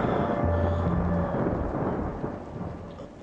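Heavy rain pours in a film scene while thunder rolls loud and continuous, a deep rumble that slowly eases toward the end under the dense hiss of rainfall.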